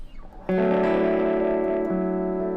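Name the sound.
guitar fuzz pedal tone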